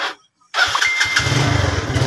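A Yamaha Mio Sporty motorcycle's electric starter cranks briefly after a short silence, then the engine catches and settles into a steady, close, loud idle.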